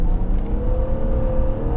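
A BMW Z3 M Coupe's engine and metallic exhaust hold a steady, close drone with a slight rising rev, continuous and loud for the whole stretch with no talking.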